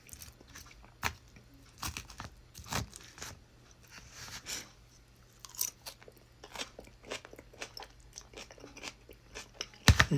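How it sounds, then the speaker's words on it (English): Crunchy cabbage salad being chewed close up, with repeated crisp bites and crackling crunches scattered unevenly across the whole stretch, no talking. "Let's try the cabbage salad."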